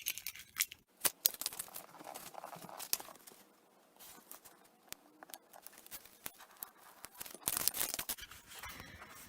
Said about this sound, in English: start peeling away gently the excess at an angle